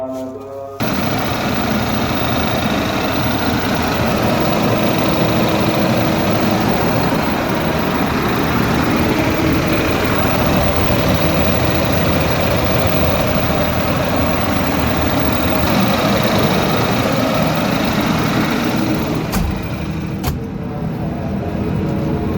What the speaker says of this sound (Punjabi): ਹਾਂਜੀ ਜਨਰੇਟਰ ਸਟਾਰਟ ਕਰਕੇ ਦੱਸੋ